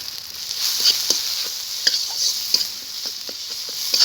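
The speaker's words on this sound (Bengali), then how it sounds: "মশলাটাকে আমি ভালো করে কষিয়ে নেব" Ground cumin, coriander and dried chilli powder masala with chopped tomato frying in a pan, a steady sizzle broken by repeated scraping stirs of a spoon, close and moderately loud with no talk.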